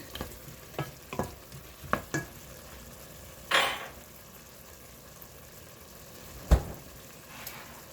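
Minced garlic stirred into onion and celery sizzling in a pot for vegetable beef soup; soft frying hiss with a few scraping utensil knocks and one louder clank, fairly quiet and close, no voices.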